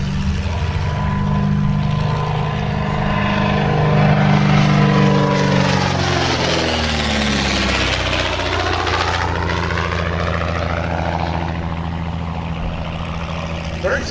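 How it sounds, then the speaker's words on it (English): A vintage Speed 6 aeroplane, an Art Deco-era air racer, flies past with a loud droning piston engine and propeller whose pitch sweeps as it passes close by, swelling then slowly receding. "The reason I like the Speed 6 so much is because it was once described to me as the world's only Art Deco aeroplane"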